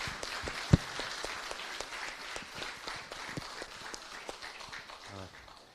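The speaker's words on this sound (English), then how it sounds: "Big round of applause," Audience applause at a CEO club knowledge series event, steady scattered clapping from a room of people, moderately faint, with one sharp louder clap near the start, fading toward the end.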